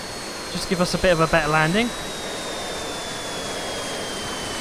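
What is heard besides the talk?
Douglas DC-4 engine in RealFlight 9.5 simulator video game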